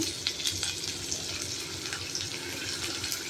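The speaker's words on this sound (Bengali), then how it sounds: "ওই তেলের মধ্যে দিয়ে দেবো গোটা গরম মশলা আর তেজপাতা। একটু ফোড়নটাকে ভালো করে ভেজে নেব।" Whole garam masala and bay leaves fry in hot oil for a duck egg korma, a dense, continuous crackling sizzle close up with faint stirring, no voices.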